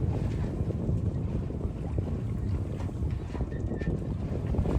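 A small sailboat moves across Lake Huron in steady wind, a dense rushing roar of wind buffeting the microphone with water wash beneath, constant and close throughout.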